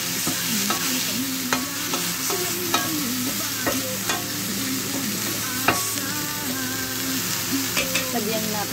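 Food frying hard in a pan at home, a steady loud sizzle with frequent sharp spatters and pops, plus the scrape and clatter of stirring throughout.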